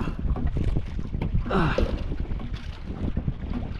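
Strong wind buffets the microphone outdoors near a boat on the water, a heavy low rumble that gusts up and down throughout, with a brief voice rising over it in the middle.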